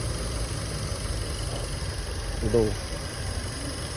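Second-generation Honda CR-V engine idling cold in the morning with a rough tone, a steady low rumble running throughout while someone talks over it.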